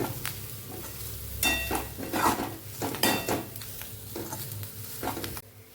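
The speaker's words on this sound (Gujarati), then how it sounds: "લીલા ધાણા પણ આપણે ઉપરથી ઉમેરી દઈશું આ બધું સરસ આપણે મિક્સ કરી લઈશું" Masala rotlo, a Kathiyawadi crumbled millet flatbread, being stirred with green coriander in a pan: repeated scraping and clinking of a spoon against metal, with a soft sizzle underneath, close and steady, no talking.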